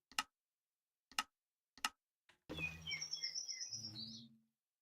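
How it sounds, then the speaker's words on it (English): Birds chirping loudly outside: after three sharp ticks, a close, bright burst of overlapping chirps and tweets runs for about two seconds before fading. "Why are the birds so loud?"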